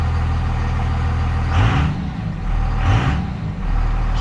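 A second-generation Cummins diesel truck engine idling steadily after fuel system work, with a constant low rumble and two brief swells of revving or air hiss rising above it.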